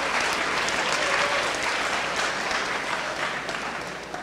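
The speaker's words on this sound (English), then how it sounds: "So give yourselves a big round of applause for filling the hall." A sold-out lecture hall audience gives itself a big round of applause, a full, sustained burst of clapping from many people that gradually tapers off.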